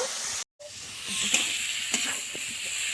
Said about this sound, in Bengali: দিয়ে কচুর সঙ্গে একটু কষিয়ে নেব।